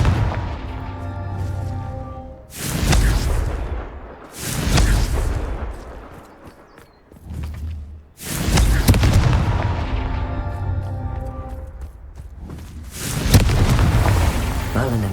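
Confringo fire spells explode in the Hogwarts Legacy video game, several loud, booming blasts in close succession, each with a heavy rumbling tail.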